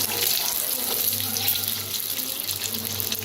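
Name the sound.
eggs frying in a pan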